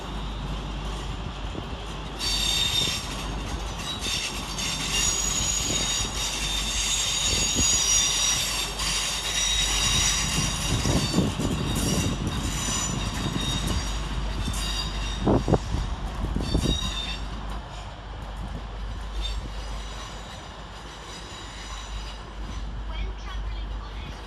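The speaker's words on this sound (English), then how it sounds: "Departed over on the far side is 360-114 and 360-101 with the 11:45 East Midlands Railway service to Corby." A pair of coupled East Midlands Railway Class 360 electric units pulls out of London St Pancras on the far side of the station. There is a steady low rumble, wheel squeal and high whine, with faint talk under the noise.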